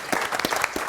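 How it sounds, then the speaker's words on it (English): A short burst of audience applause at a city council live-streamed meeting, a few close, distinct claps in quick succession, brief and fairly loud. "I want to give him a round of applause"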